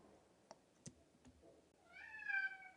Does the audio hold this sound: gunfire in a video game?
no